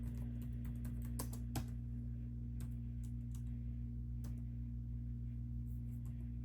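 Java code is typed on a computer keyboard as sparse, faint key clicks in irregular bursts, set against a steady low electrical hum.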